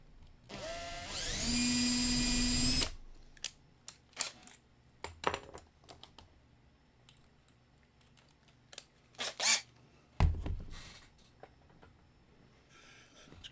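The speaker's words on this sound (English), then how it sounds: "I do the shielded drilling with the Vex bit" A small drill fitted with a Vex bit bores into a diecast lowrider model body in one loud, steady burst lasting about two seconds, followed by quieter handling clicks and taps.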